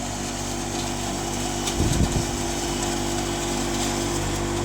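A fodder chopping machine drones steadily with a constant mechanical hum, and a brief rough chopping burst rises near the middle.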